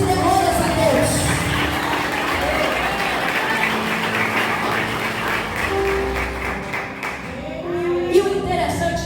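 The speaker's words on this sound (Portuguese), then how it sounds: "Quem crê, bata palmas e dê glórias a Deus." A church congregation clapping along during a Portuguese-language sermon, a dense, steady wash of many hands in a reverberant hall, with voices and music-like tones mixed in underneath.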